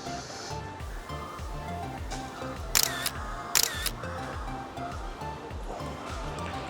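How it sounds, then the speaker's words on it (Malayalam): A Vivo X300 Pro phone camera snaps two short shutter clicks about a second apart, faint over a soft steady background hum. "ഞാൻ അവൻ്റെ ഫോട്ടോ ഒന്ന് എടുത്തു തരാം"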